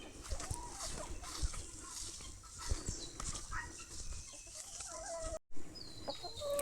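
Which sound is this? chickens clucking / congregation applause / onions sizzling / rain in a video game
chickens clucking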